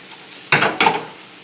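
Onions sautéing in butter and olive oil for a potato gratin, giving two close, loud bursts of sizzling and stirring against a quiet pan hiss.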